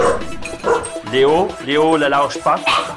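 Small dogs bark, yip and whimper excitedly while playing close by, with high whining cries and sharp bursts, under a person talking over them.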